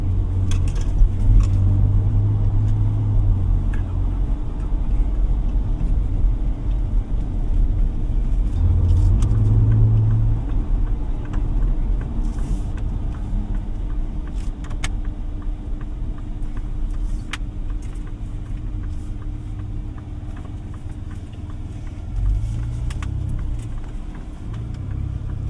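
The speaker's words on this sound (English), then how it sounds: "Nice engine sound to it." A 2025 Ford Ranger Raptor's 3.0 V6 engine hums with a low, steady rumble while driving, with road noise and faint interior rattles throughout and a few swells of engine load.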